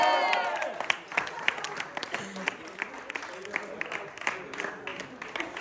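Audience applause for a performer at a medical school gala, dense clapping with scattered claps and a few cheers throughout, a voice briefly talking over it near the start.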